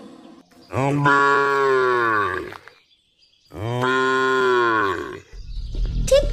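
A cow moos twice in a cartoon, two long loud drawn-out calls separated by a short pause, followed by a brief scrape of other noise at the end.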